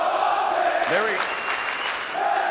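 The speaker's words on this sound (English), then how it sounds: "you can hear the entire crowd shouting, "Let's go Optic"" A large crowd at the esports main stage of CWL London 2019 for an Optic Gaming versus FaZe Clan match roars and applauds in a continuous wash of noise, while a voice cuts through partway.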